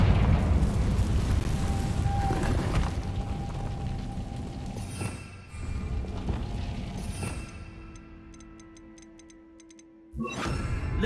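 Magical blast of the Confringo fire spell in the Hogwarts Legacy video game, a rumbling booming burst followed by crackling debris and ticking mechanisms that fade, then another loud hit at the end.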